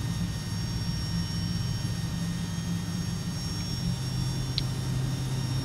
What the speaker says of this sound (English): Put that up a little bit so we can hear the engines coming up.